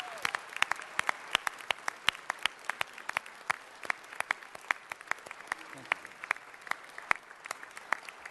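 Audience at a city council meeting applauding steadily, a sustained patter of many hands at moderate distance, fairly even throughout.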